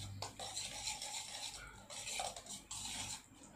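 A spoon scrapes and clinks against a bowl as sliced lemongrass and onion are mixed together. The stirring is steady and close by, with no speech.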